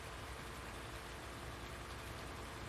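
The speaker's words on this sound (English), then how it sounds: "It seems to be raining pretty good, and my windshield wipers have not sped up" Steady rain in Farming Simulator 19, a constant soft wash of patter with a faint low engine hum beneath, unbroken and even throughout.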